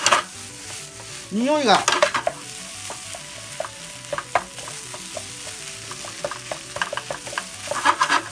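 Spicy Peyoung soba-meshi stir-fried in a pan, a steady sizzle under repeated scraping and clattering spatula strokes, close and fairly loud, with someone briefly talking over it.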